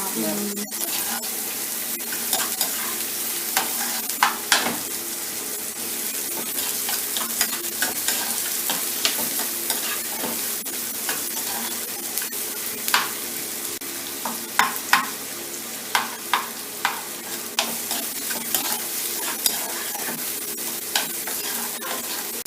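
Curry leaves and small onions fry in hot oil for a mutton fry, a loud continuous sizzle with repeated crackles and stirring scrapes, close up, while someone talks quietly at times.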